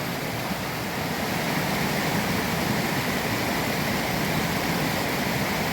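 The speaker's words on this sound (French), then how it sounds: "C'est une suite de petites cascades." A series of small waterfalls pours steadily in the rain, giving a loud, close, unbroken rush of water with no voices.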